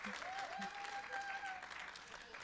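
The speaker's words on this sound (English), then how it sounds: "let's give a round of applause to our panel" Faint audience applause for a panel at a live-streamed community event, steady clapping from a crowd heard at a distance throughout.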